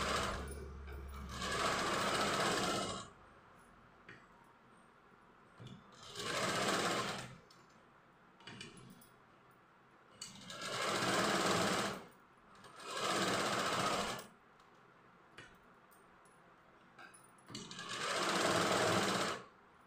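A sewing machine stitching an outline on a cross-cut jacket runs in five or six steady bursts of a few seconds each, separated by short pauses, close and clear.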